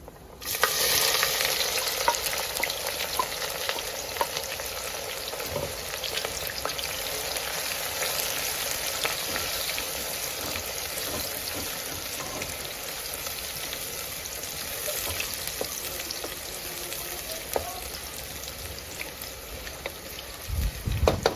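Chopped onions fry in hot oil with garam masala for a mutton and spinach curry, giving a steady, close, unbroken sizzle and crackle with occasional stirring scrapes and no talking.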